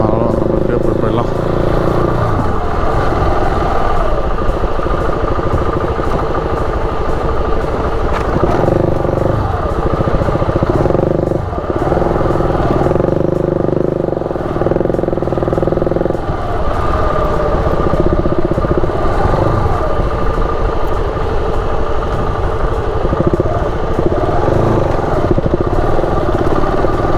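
A motorcycle rides along a road in Tanzania, its engine droning steadily and loudly throughout with rumbling wind and road noise and no pauses.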